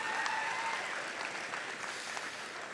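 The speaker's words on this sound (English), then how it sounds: "Another round of applause for Walker" An audience at a nursing college convocation applauds a student speaker named Walker, a short burst of steady, moderately loud clapping that fades slightly toward the end.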